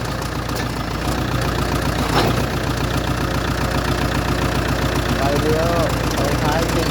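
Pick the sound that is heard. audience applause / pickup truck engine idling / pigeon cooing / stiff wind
pickup truck engine idling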